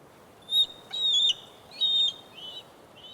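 A bald eagle gives a series of thin, high, whistled chirps, about four short calls in quick succession, fairly close against a quiet outdoor background.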